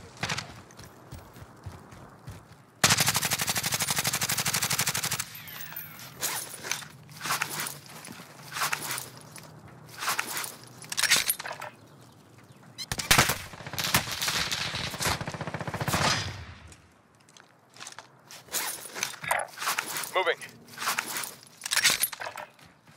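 Call of Duty: Modern Warfare gameplay brings loud gunfire in a battle-royale firefight. A long sustained burst is followed by scattered shots and short rapid volleys, with pauses between them.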